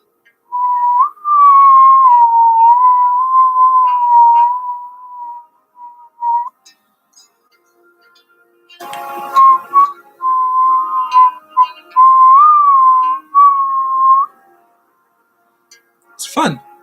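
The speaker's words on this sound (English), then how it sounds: "I'm being told that this is called whistling." A person whistles in clear, sustained tones, holding wavering pitches for several seconds, pausing, then whistling again in shorter bending phrases before a brief sharp noise at the end.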